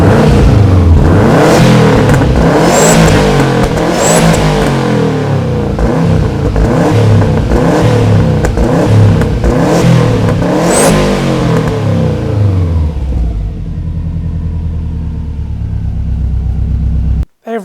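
A car engine is revved hard again and again, each burst rising and falling in a rough, close rumble. The revs then ease back to a quieter idle before the engine cuts off abruptly at the end.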